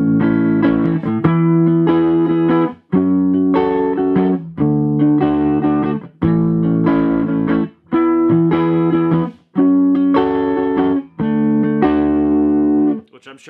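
A guitar strums a repeating four-chord progression, each chord ringing for a couple of seconds with a slightly driven tone, loud and unaccompanied.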